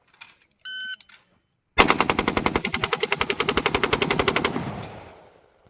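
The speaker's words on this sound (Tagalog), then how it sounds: "So this will be automatic fire." A sustained burst of automatic rifle fire empties a magazine in under four seconds, the rapid even shots loud and close, preceded by a short electronic timer beep and fading into a brief ringing tail.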